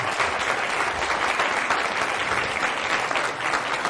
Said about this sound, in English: I want to punctuate the applause that we just received here for our keynote speaker today